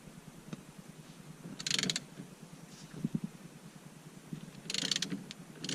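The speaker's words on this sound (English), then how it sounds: "we're going to use a puller to pull the steering wheel on out of here." Steering puller working on a steering wheel of a 1992-96 Ford F150 during clock spring replacement: a few short creaks, ratcheting clicks and metallic turns, with two louder grinding bursts, close and moderately loud.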